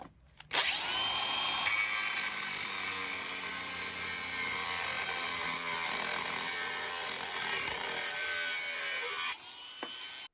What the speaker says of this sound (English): What I'm doing here is grinding the heads off some of the rusty bolts